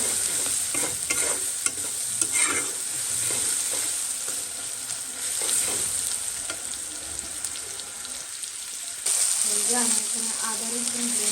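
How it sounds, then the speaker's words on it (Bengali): Onions frying lightly in a pan, a steady sizzle with frequent spatula scrapes and knocks, a louder burst of sizzling near the end and faint background talk. "পেঁয়াজটা অনেকটা ভাজি না হালকা হালকাই ভাজি"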